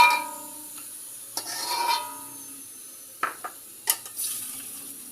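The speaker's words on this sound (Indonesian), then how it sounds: "Dan diteruskan dengan menggoreng ikan teri nasi" Small anchovies, ikan teri nasi, frying in a pan, a faint sizzle punctuated by several scraping stirs and clinks of a utensil against the pan.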